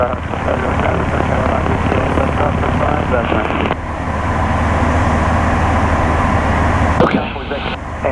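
A light airplane in flight during instrument flight training, heard as a steady loud droning engine hum throughout, with cockpit voices talking over it and a brief shift in tone near the end.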